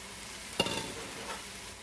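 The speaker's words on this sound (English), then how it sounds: "And then we're going to add our tomatoes." Tomatoes tip into a chili pot of beans and spices with a quick clatter, followed by a soft, steady sizzle and faint stirring.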